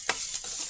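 Cumin, peanuts and onion sizzle in hot oil for a tempering, with a quick stirring scrape in a short, close burst of frying.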